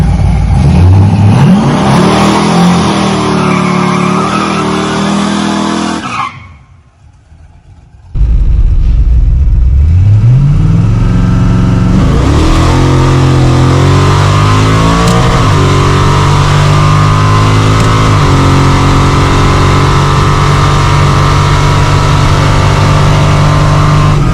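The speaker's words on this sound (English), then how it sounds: "as soon as I launch I can hit the nitrous right away to go a little faster" A nitrous-fed pickup truck revs hard at the drag strip line, falls nearly silent for a moment, then launches and roars loudly through rising gear pulls as it accelerates away.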